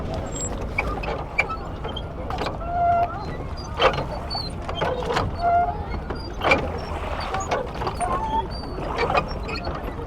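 Paddling a rental boat on a crowded lake, with irregular splashing and knocking strokes scattered through steady outdoor background noise and distant voices.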